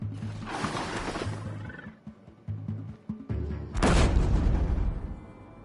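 An explosion in Horizon Zero Dawn, a loud sudden roaring blast near the end that follows rumbling machine-creature growls and game music, with no speech during it.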